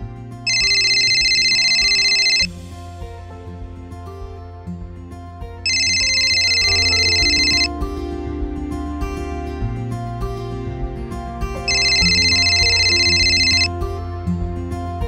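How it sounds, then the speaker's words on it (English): A phone ringtone plays three loud bursts of bright electronic tones spaced a few seconds apart, over a steady background of lower musical notes, with no one talking. "I think it was my phone."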